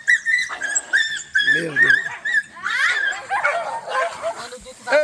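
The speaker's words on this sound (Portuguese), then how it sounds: "Tem uma cadela no cio aqui, ó." A female dog in heat at a riverside community in Amazonas, whining, yipping and barking close by in short bursts while a person speaks over the animal.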